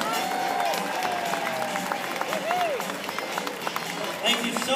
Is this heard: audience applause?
yes